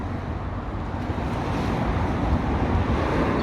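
Gusty wind blows hard across the microphone on a cool main street in Thornliebank, Scotland, making a dense, steady roar that builds slightly and carries no other clear sounds.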